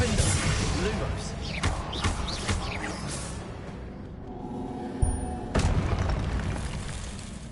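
Confringo fire-spell blasts in the video game Hogwarts Legacy, a run of dense booming bursts over game music and effects, with a sharp louder impact near the end.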